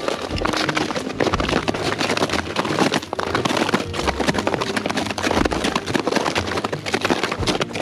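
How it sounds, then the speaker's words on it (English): Boots with crampons crunch and scrape over glacier ice in Alaska, a loud, dense run of sharp crackling footfalls close by, steady throughout with no talk over it. "that sound you hear is us walking on a glacier"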